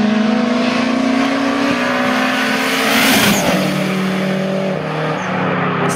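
A Seat Leon races a Golf 5 in a drag race, engines droning loud and steady with rising and falling harmonic tones and a faint tire squeal, heard from close by.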